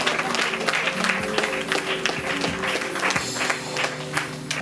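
A church congregation claps in praise of Jesus during a deliverance service, a dense, steady wash of many hands with a sustained tone and voices mixed underneath.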